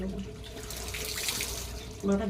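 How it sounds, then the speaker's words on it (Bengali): Water runs steadily from a tap in a continuous splashing hiss and is poured over someone's head, with a brief tonal hum near the end. "এই জল আমরা শুধু দেবো আর এখান থেকে জল দেবো মাথা"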